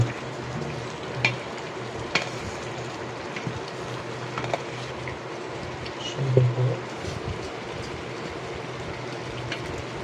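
Bhuna khichuri made with fragrant polao rice cooks in a pot with a soft low sizzle, broken by scattered scraping clicks from stirring and a brief louder scrape near the middle.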